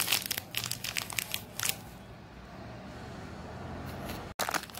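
Packets of basbousa mix are emptied into a bowl, with close, crisp rustling and crinkling of plastic bags in quick bursts, then a quieter stretch before more crinkling at the end.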